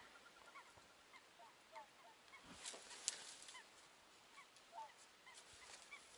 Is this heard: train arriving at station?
no